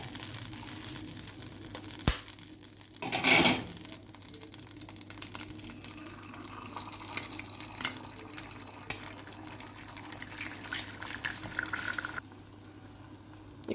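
Egg frying half-boiled in butter in a pan, a soft, steady sizzle with a brief louder crackle burst early on, then settling into quiet frying.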